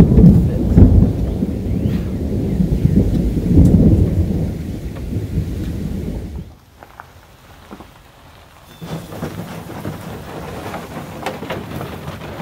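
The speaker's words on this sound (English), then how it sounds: "Evening thunderstorm, afternoon thunderstorm, and put a little damper." Evening thunderstorm: a long loud rumble of thunder over steady rain, dying down into a quiet pause before the rain patter picks up again, heard outdoors with no voices.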